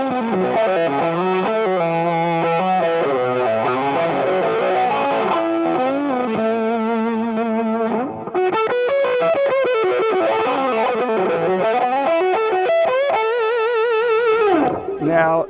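Electric guitar with distortion played through one side of a dual wah pedal inside a Fractal unit, sustained melodic lines with sweeping, vocal-like tone shifts, loud and continuous with a brief break midway.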